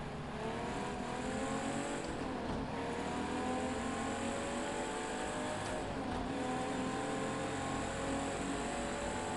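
A Ferrari race car in Project Cars 2 roars continuously at high revs, its engine note rising and falling through gear changes, loud and close throughout with no voices.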